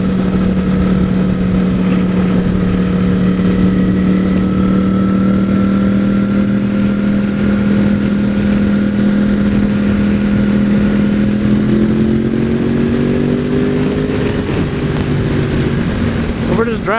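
A 2014 Yamaha R1 motorcycle drones steadily as it rides along on a sunny day. The engine holds a sustained pitch that climbs slightly near the end, with background rushing noise throughout.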